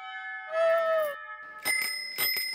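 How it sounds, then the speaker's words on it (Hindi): A bicycle bell rings in a domestic courtyard setting: a short sustained ring, then two quick bright dings with lingering metallic overtones, close and clear with no talk. "अब इस साइकिल की घंटी की आवाज नहीं सुनाई देगी गोकुलधाम सोसाइटी के आंगन में"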